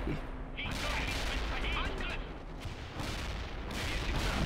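Tank machine guns fire at infantry in a World in Conflict: Soviet Assault battle, with dense, rapid bursts of gunfire layered over constant loud combat noise for the whole stretch.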